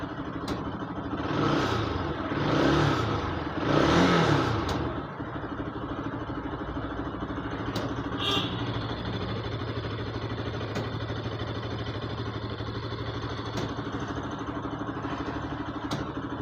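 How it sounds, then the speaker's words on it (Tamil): A motorbike engine idles with a steady low rumble and is revved lightly two or three times early on to clear an air lock in the radiator, then settles back to a continuous idle. "இது மாதிரி ஒரு 10 நிமிஷம் வண்டி ஐட்லிங்கில் ஆட விட்டு கொஞ்சம் லைட்டாக ரைஸ் பண்ணி பார்க்கணும்."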